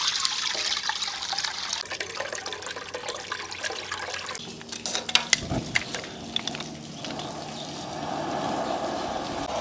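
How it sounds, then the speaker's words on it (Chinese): Beef tripe is sloshed and stirred by hand in clear water, giving splashing, trickling and gurgling close by, with a burst of sharper splashes midway and no talking. "先把这个放到清水里面搅拌一下"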